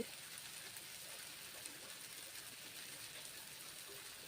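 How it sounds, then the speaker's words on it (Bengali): Rain falls as a steady, faint, even hiss that runs unbroken from start to finish, with no other sounds standing out. "তারপর আজকে বৃষ্টি পড়ছে"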